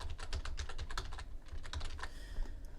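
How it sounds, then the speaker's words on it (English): Rapid typing on a computer keyboard, a steady stream of close, crisp key clicks with brief pauses, alone without any voices. "I'm going to select the text and then type it in"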